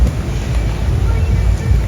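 Loud, blustery wind at a hotel children's playground in Sharm El Sheikh, Egypt, buffeting the microphone, a continuous low rumble with gusty surges and no voices.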